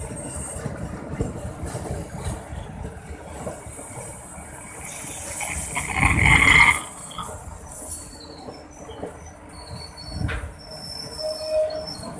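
A diesel-hauled eight-car economy passenger train bound for Padalarang rumbles past steadily, with wheels clattering and a brief high squeal of metal partway through; no voices.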